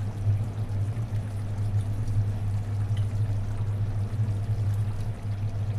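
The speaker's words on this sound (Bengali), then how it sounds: "আমি এখন দুধ দিয়ে দেব লিকুইড দুধ 2 কাপ দুধ দিয়ে দেব" Two cups of liquid milk poured into a pot of tehari, a steady close-up liquid rush over a low cooking hum, with no talking.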